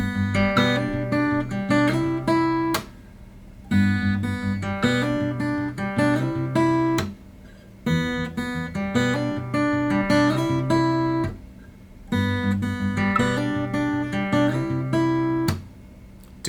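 Guitar playing the main riff of a song, a repeating chordal pattern in steady phrases separated by brief pauses, clear and close with no talking.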